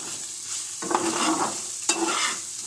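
Dry fruits and sugar sizzle in ghee in a pan for fried rice, a soft crackling fry with two bursts of stirring and scraping, close and moderately loud.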